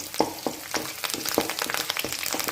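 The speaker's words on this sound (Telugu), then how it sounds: "తర్వాత కరివేపాకు వేద్దాం." Garlic, onions and curry leaves frying in hot oil, a steady close sizzle broken by several sharp crackling bursts as each batch hits the pan.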